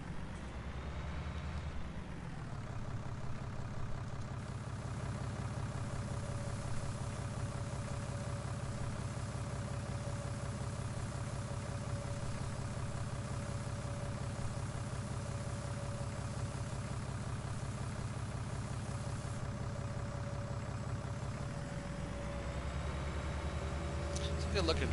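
A tractor engine idles in Farming Simulator 19, a steady, loud mechanical drone that holds unchanged for most of the stretch, with a brief rev shift near the start and end.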